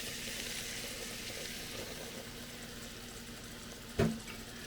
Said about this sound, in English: once the butter is pretty much all the way melted, we're going to throw in the flour.